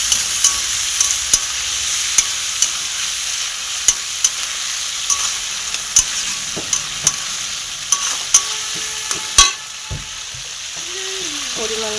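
Shrimp with ground ginger, cumin and garlic paste fries in a pan, a low sizzle with regular sharp utensil taps and scrapes from stirring, a louder clatter near the end.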